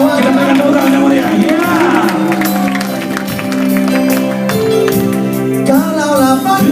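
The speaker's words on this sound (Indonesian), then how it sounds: "Kita berikan tepuk tangan yang meriah." An audience applauds and cheers at a live concert by a band performing in Sacramento, California, a dense, loud wash of clapping that carries on steadily throughout.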